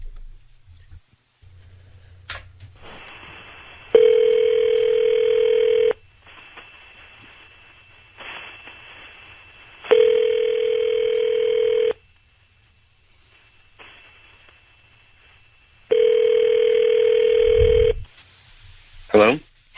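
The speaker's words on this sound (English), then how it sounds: "we're going to dial up your husband right now" Outgoing phone call ringback on a radio show: a brief dialing burst, then three evenly spaced, loud ring tones of about two seconds each separated by pauses, ending as the line connects, with faint background chatter.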